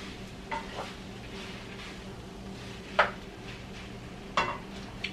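A light sofrito for tamales frying quietly in a pan, a soft steady sizzle broken by a few sharp scrapes and clinks as a utensil stirs against the pot.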